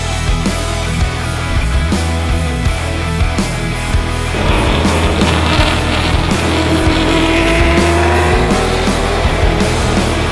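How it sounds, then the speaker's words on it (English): Trans Am race cars roar past on a circuit, a continuous loud wall of engine noise with rising and falling pitch as cars pass close by, no talk heard. "Race 2 got off to a great start with Dane running, leading from Alistair Woo"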